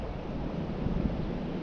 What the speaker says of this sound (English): And that is the sound of the rain.